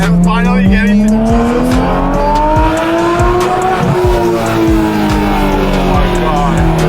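A Porsche 911 GT3 RS with the Weissach package revs hard, its engine pitch climbing and falling in loud, sustained sweeps close by, with a person talking excitedly over it.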